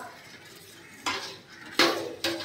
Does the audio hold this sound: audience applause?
no